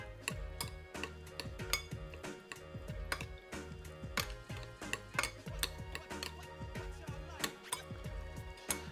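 Veal tartare stirred together with walnuts, onions, chives, radishes and Ossau-Iraty cheese, giving a steady run of close clicks and light taps of a utensil against a bowl, evenly repeated throughout.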